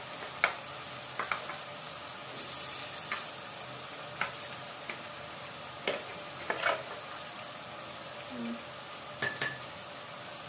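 Garlic paste frying in overheated oil in a pan, a soft steady sizzle broken by intermittent clinks and scrapes of a spoon stirring against the cookware, with no talk.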